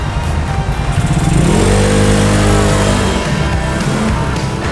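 A modified Yamaha Mio Sporty scooter-type motorcycle pulls away loudly and close by, its engine note rising as it accelerates and then fading into steady road noise.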